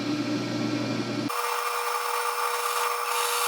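A drill whines steadily while boring a 5/16 tap-drill hole into metal, its pitch shifting abruptly partway through as the cut changes, with no talking.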